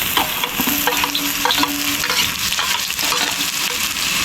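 Garlic and onion sautéing in a hot pan for seafood fried rice, a loud close sizzle and crackle with repeated scraping stirs of a utensil against the pan, no voices.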